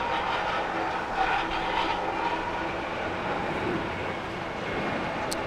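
A United Airlines Boeing 737-800 jet flying to Las Vegas out of Los Angeles International Airport, a steady broad engine roar that holds fairly loud for the whole stretch with no break.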